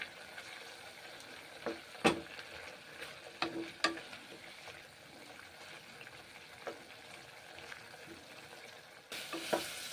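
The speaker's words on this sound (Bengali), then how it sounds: "নেড়ে চেড়ে ভেজে নিচ্ছি করলাগুলোকে" Bitter gourd being stirred and fried in a pan makes a soft, low sizzle, broken by scattered clicks and scrapes of the spatula that swell into a louder burst at the end.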